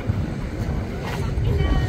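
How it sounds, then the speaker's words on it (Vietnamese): Boats run along a river whose water is churned into strong waves, heard as a steady low wash and rumble with wind buffeting the microphone throughout. "Ở đây thì ngày đêm là ghe tàu chạy sóng đánh rất là mạnh."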